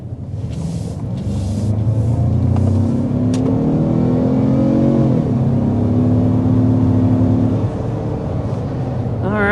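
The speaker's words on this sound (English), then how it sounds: "that was an acceleration up to about 60 miles an hour" A 2025 Ford Maverick Tremor pickup with a 2-liter turbocharged four-cylinder accelerates hard up a steep incline to about 60 mph. The engine note is loud and continuous, rising through the revs with a brief dip at a gear change and a steady drone underneath.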